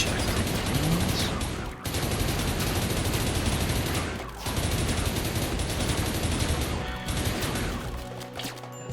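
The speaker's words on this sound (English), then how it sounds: "They're close enough to be hit by the shotgun. Switch to the shotgun, please." Shotgun fire in a video game: dense, continuous blasts and crashing impacts fill the clip at high loudness, broken by a few brief gaps, with the noise thinning out at the very end.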